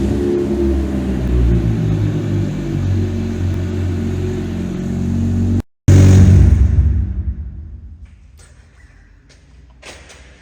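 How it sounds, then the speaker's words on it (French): A Renault Safrane 2.5 20V engine with its exhaust line removed cranks and fires in an underground garage, roaring loud and raw at idle, then dropping away after a brief cut to a much quieter rumble. "on va démarrer comme ça, sans la ligne"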